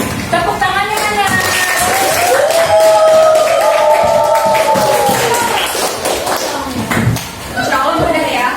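A group of children in a primary school classroom claps along in rhythm while their voices chant and sing over it, the sharp clapping bursts mixed into loud, close singing.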